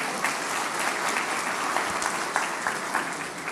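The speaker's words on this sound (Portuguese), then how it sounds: "Vamos aplaudir." A church congregation applauds steadily throughout, a dense, continuous wash of many hands clapping at moderate distance, with no distinct voices over it.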